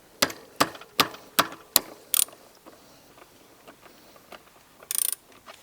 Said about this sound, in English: Now you're going to loosen the axle using a 14mm Allen key.